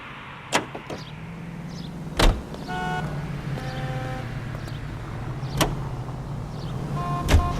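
A car driven in L.A. Noire, its steady engine hum running throughout with a few sharp clunks and thuds over the top, and no voices.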